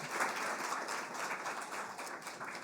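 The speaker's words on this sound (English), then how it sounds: "let's give them a round of applause as they come up" Faint, steady applause from a church congregation, a dense patter of many hands clapping at a distance.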